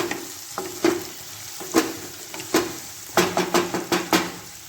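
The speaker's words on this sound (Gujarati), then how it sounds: "પછી આપણે બધું મિક્સ કરીશું." Ginger and tomatoes stirred together in a pan for dal fry: a rhythmic run of spoon scrapes and clinks against the pan over a light sizzle, close and distinct, with no talking.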